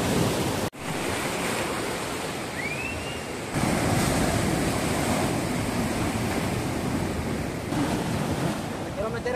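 Ocean waves crash against sea cliffs in a loud, continuous roar of surf and churning water, with wind buffeting the microphone and a sharp click near the start.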